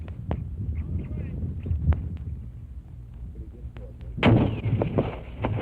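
Thudding explosions and sharp blasts from a Marine Corps boot camp grenade training range at Parris Island, several spaced distant booms with a louder, closer burst near the end under instructor voices.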